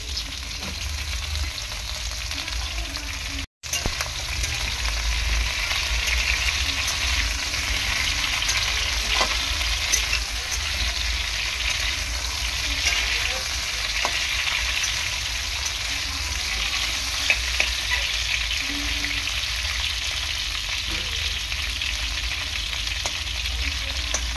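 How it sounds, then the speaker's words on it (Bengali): Pointed gourd (potol) frying in a pan, a loud, dense, continuous sizzle with occasional stirring scrapes, close and unbroken throughout, with no talking. "পটলটা ভালো করে ভেজে নেব।"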